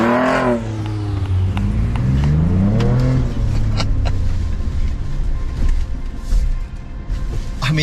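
A 2023 Ford Ranger Raptor accelerating and pulling away, heard from inside the cabin as a loud, steadily rising engine note that climbs through the gears over several seconds, with a couple of brief voice sounds.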